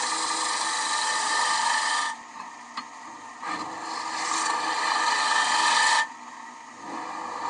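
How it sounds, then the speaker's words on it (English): A gouge cuts a wooden bowl on a lathe, giving a steady loud rasping scrape that drops out briefly twice, with the lathe hum running underneath. "I'll clean that paint off the face while I'm still using this gouge"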